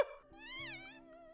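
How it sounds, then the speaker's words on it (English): An anime cat gives a single clear meow, rising and then falling. It is close and fairly quiet, with no talking over it. "Kitty!"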